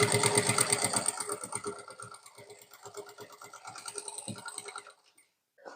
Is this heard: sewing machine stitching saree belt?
yes